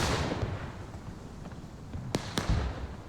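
Cannons firing in a Civil War strategy battle game, Confederate guns on strong lines aimed down at Union artillery: two sharp, distant booms over a constant rumbling battlefield din.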